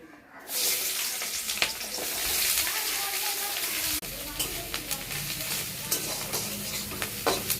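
Onions hit hot oil in a kadai where potatoes were just fried, bursting into a sudden bright sizzle that settles into a steady crackle, with a clunk midway and scattered scraping stirs; a faint voice sits in the background.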